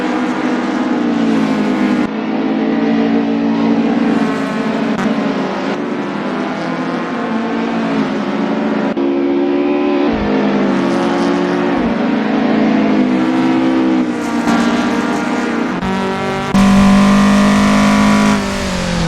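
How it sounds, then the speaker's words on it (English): An AE86 race car in a sim race at Lime Rock braking hard and downshifting into a chicane, its engine note droning and stepping through gear changes with revving surges, loud and continuous with no talk. "Hard braking into the chicane, downshift to 3rd."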